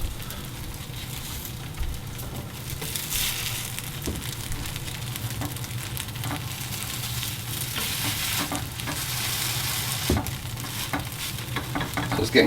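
Protein pancakes frying in a pan, a steady close crackling sizzle that runs throughout with occasional utensil scrapes and taps, no talking.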